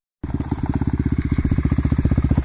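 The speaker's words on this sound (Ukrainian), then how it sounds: "Повноприводний мотоцикл." An all-wheel-drive motorcycle engine starts abruptly and runs close by with a steady, rapid chugging pulse, loud and uninterrupted.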